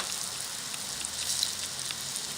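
A pork cutlet fries in hot oil, giving a bright, crackling sizzle that holds steady with small pops scattered throughout.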